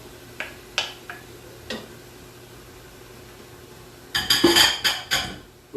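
Dishes and a spoon clatter while a dairy-free lasagna with carrot and celery is being cooked, first a few sparse knocks, then a loud cluster of clinks and bangs near the end.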